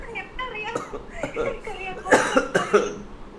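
Several harsh coughs come in a short cluster near the end, close by, mixed in with ongoing talking.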